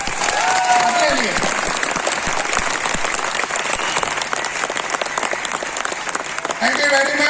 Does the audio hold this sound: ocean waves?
no